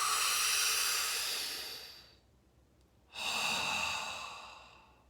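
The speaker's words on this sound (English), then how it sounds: "So that's the sound of the breath." A slow, deep breath drawn in through pursed lips, a soft airy hiss that swells and fades, then a short pause, followed by another long breathy exhale, close and quiet.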